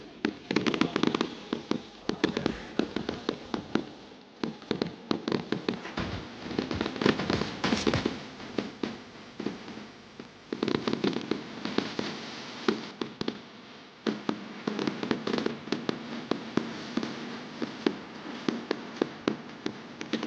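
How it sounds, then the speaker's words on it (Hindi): Fireworks and firecrackers bursting at a political election rally in Pakistan, a dense crackling barrage of rapid pops and bangs that keeps going with short lulls. "प्लीज़ ये आतिशबाजी बंद कर दें।"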